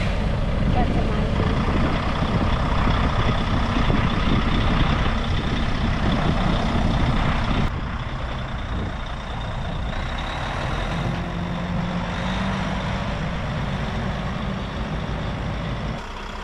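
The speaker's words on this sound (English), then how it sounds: "At last, the truck made it up to the shed and was carefully backed into place." Heavy truck engine rumbling loud and close while backing up to a shed on a muddy site, with a steady low drone that drops slightly partway through; a brief voice is heard.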